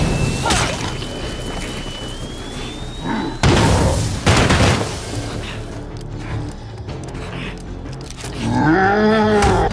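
A grenade explodes in the video game State of Decay 2, a sudden loud boom with a rumbling tail, followed by further heavy blasts and low groaning game sounds.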